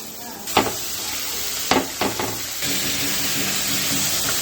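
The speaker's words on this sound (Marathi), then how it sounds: "कांदा आणि मिरची भाजली आहे तर ह्याच्यामध्ये आपण भाजी टाकून घेऊ" Leafy greens dropped into a pan of fried onion and green chili, giving a steady hissing sizzle with a few brief louder bursts and stirring scrapes, close and moderately loud with no talking.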